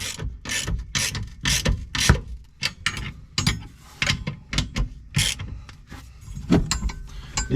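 A hand ratchet clicks in repeated bursts while tightening lock nuts on a Polaris Pro XP parking brake, the close, crisp pawl clatter coming in rhythmic strokes with short pauses between them.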